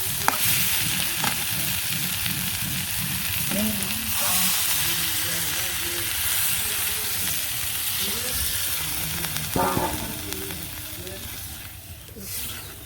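Meat curry cooking in a village kitchen hisses and sizzles hard in the pan after water goes in, a loud continuous crackle with a few knocks; faint voices murmur underneath.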